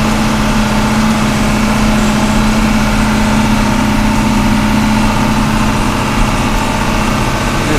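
A John Deere 4230 tractor's diesel engine pulls steadily uphill at about 1,800 RPM, a loud, even, unbroken drone with a low hum and no talking.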